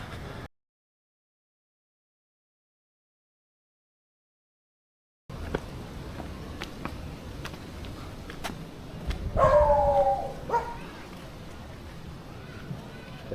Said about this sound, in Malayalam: പട്ടിക്കുട്ട വന്നിട്ടുണ്ട്.